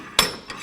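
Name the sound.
hammer striking a stuck rear wheel hub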